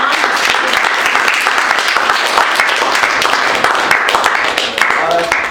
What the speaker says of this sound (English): Everybody give a round of applause for John